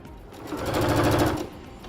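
A sewing machine stitching lace onto a nightie neckline. It makes one short, close, steady run of rapid stitching that swells and then eases off over about two seconds.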